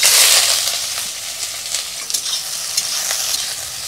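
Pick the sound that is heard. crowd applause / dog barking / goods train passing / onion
onion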